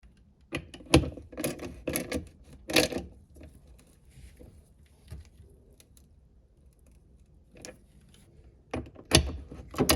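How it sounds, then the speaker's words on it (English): Bolts on a Mercruiser 3.0L marine engine harmonic balancer pulley being tightened by hand, bursts of close metallic ratcheting clicks with quiet gaps in between, no one speaking. "go ahead and tighten up both of these bolts without over tightening them"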